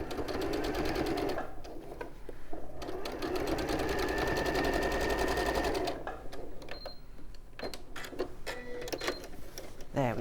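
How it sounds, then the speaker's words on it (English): A sewing machine topstitches trousers, running steadily with a fast mechanical whir, pausing briefly, then starting again in short bursts while a person talks nearby. "So we've done a nice little row of top stitching there."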